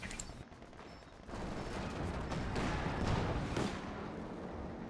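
Rocket artillery firing in Company of Heroes 2 in the Lienne Forest, a dense rolling barrage of rapid blasts and rumbling impacts that swells after a quieter opening and holds at moderate loudness.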